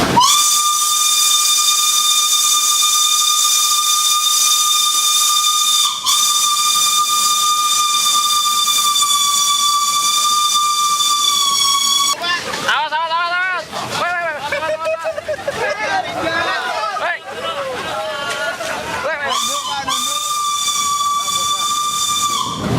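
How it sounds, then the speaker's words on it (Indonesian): A loud, shrill steam whistle blasts continuously for long stretches, with a warbling, wavering section in the middle, accompanied by hissing steam and background chatter. "Bahkan peluit lokomotifnya sangat keras sekali."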